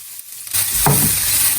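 Onion and garlic hitting hot oil in a pan for a chilli pancake sauce, a sudden loud sizzle that starts after a quiet moment and holds as a steady bright hiss.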